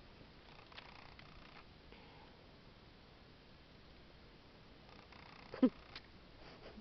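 Soft, close purring from a cat rumbles quietly and steadily, with a brief rustle partway through.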